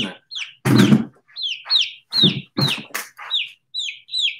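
A week-old chicken chick peeps in a rapid series of high, bright chirps, close up, with a few broader bursts of handling noise and movement between calls.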